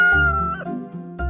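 Roosters crow in loud, close, harmonic calls, one after another with short overlaps.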